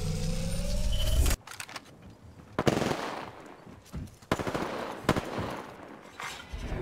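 Gunfire striking the player in a squad match of the battle royale game Apex Legends, heard as several sharp loud bursts and impacts spaced irregularly after a short stretch of engine-like noise.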